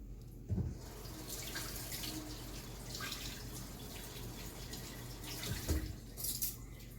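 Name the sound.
rinsing something under a running tap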